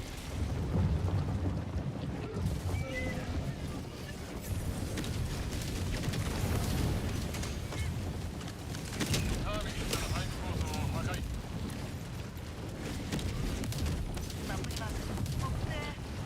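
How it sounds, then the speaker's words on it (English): An orbital fire barrage in the game Helldivers pounds down as a dense, continuous rumble of explosions that rolls like thunder over rain, with a person talking over it. "Fire barrage coming in"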